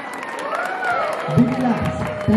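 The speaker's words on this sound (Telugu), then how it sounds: "big claps" A seated audience at a committee oath ceremony in a residential community claps in a steady, fairly loud wash of applause, with a voice speaking over it partway through.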